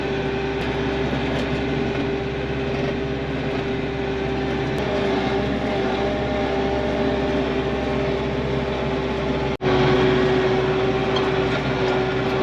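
A tractor drives out across a property to plant food plots, its engine giving a steady, close droning hum with one sharp click near the end and no talk.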